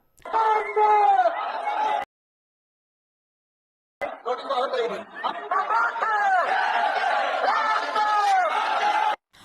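A protest crowd shouts in the streets of Arunachal Pradesh. Overlapping raised voices come in bursts, fairly close, then break off into a two-second silence before the shouting resumes and carries on.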